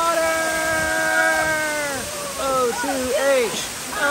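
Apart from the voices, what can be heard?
waterfall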